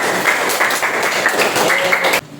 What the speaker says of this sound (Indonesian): Tepuk tangan buat Al-Ahzab.